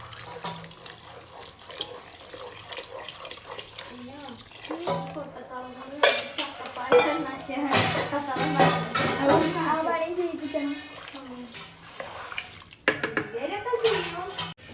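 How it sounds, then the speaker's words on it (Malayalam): Jackfruit payasam with milk is stirred in a pot, the spoon clinking and scraping against the metal amid splashy kitchen clatter, the knocks coming in uneven bursts while a voice talks over part of it. "നല്ലോണം ഇളക്കി കൊടുക്കണം"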